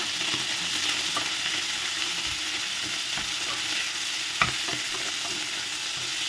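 Meat fries in oil in a cauldron, sizzling steadily while a utensil scrapes and stirs it in irregular strokes, with one sharper knock near the end; nobody speaks.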